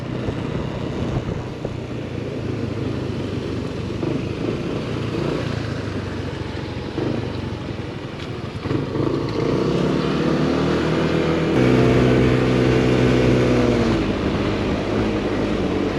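Motorcycle riding on roads in Korea: a continuous engine drone with wind noise, which swells louder and shifts into a steadier, higher rev tone partway through as the bike speeds up.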